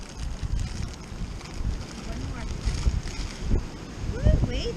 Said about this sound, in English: that wind is still crazy this morning